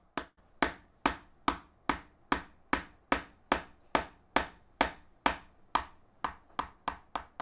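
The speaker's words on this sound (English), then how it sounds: "For my first strike, it's always to bite into the wood" A mallet drives a gouge chisel into wood while carving a small bowl, giving about sixteen sharp, close, evenly spaced knocks, each ringing briefly before the next blow.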